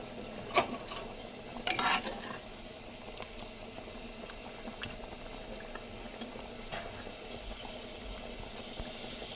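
Masala curry for a fish dish bubbling as it boils in a pot, a soft continuous simmer with a few louder stirring clinks near the start, no talk.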